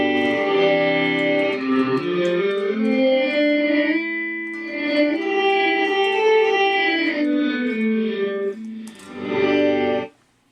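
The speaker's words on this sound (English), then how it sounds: "So this is just the reverb." Electric guitar played through a Digitech Digiverb reverb pedal, sustained chords and slides ringing out with a lush reverb tail that blooms and decays, then a final strum cut off abruptly, with no talking.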